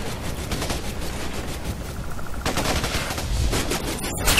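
Rapid automatic gunfire in the jungle shooter game Raven Squad rattles on continuously in dense, loud bursts, with a brief clatter near the end.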